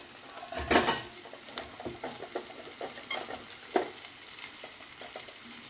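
Green chillies and onions fry in a pan with a soft continuous sizzle, broken by irregular clinks and scrapes of a spoon stirring against the metal, close by and without talk.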